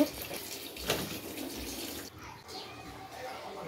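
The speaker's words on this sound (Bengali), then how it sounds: "লাউটা আমার অলরেডি কাটা শেষ, এখন এই যে ধুয়ে নিতেছি।" Cut bottle gourd pieces being rinsed under a running kitchen tap, a steady close splashing stream of water into a sink that carries on throughout, briefly louder near the start.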